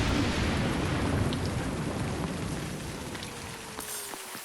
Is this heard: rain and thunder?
yes